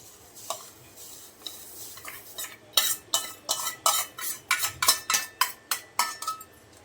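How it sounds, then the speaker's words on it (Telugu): Vermicelli stirred into a pot of milk: a spoon scrapes and clinks against the pot in a steady run of close strokes, about two per second, that grow louder after a few scattered taps. "ఇంక ఇప్పుడు ఈ సేమియాలు దీంట్లోకి వేసేసుకున్నాము."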